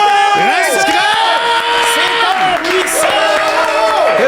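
A studio audience cheers, whoops and applauds loudly for guest Stéphane Rousseau, a continuous roar of voices with shouts rising and falling.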